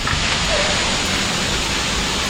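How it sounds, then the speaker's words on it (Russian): Ba Ho falls near Nha Trang fill the scene with a steady, loud, broadband rush of falling water that stays constant and unbroken throughout, with no voices. "Стартанули на третий водопадик."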